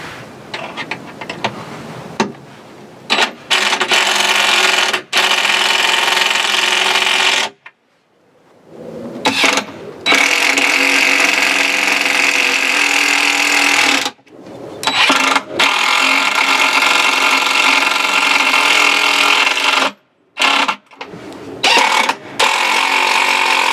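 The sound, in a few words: impact drill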